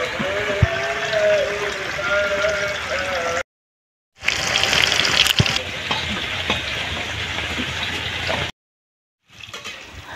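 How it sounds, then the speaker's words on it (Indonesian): Lumpia spring rolls fry in hot oil with a steady, close, hissing sizzle that drops out briefly twice before resuming. "Sekarang kita goreng lumpianya ya."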